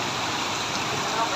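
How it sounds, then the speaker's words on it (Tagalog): Hail bouncing on a roof in Barangay 177 during a hailstorm, a dense steady patter that holds evenly through the short stretch with no talk over it. "Ang yelo ba? Tumatalbog."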